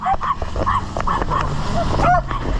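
Several dogs bark and yip repeatedly at a hiker crossing near them on the Appalachian Trail in Massachusetts, sharp close barks in an uneven rhythm over outdoor background noise.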